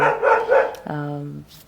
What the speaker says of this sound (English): my dogs will be barking as and when